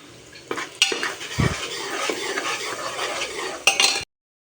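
A utensil scrapes and stirs onions, ginger, garlic and turmeric in a pan with a soft sizzle underneath, a few sharper clinks against the metal, close and steady.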